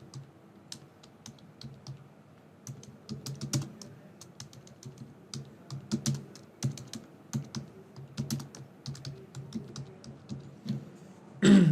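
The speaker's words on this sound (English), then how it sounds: "Now we are done typing the message for my team." Steady typing on a computer keyboard, a close run of uneven clicks and keystroke bursts with brief pauses, ending in a louder thump.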